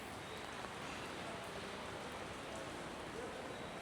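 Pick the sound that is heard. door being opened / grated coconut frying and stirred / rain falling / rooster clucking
rain falling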